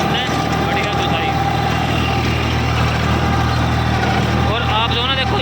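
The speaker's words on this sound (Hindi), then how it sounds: "और आप जो ना देखो इंजन का साउंड भी सुन लो" Tractor engine running steadily while pulling a 10-foot rotavator through a field, a constant low diesel drone with voices talking over it.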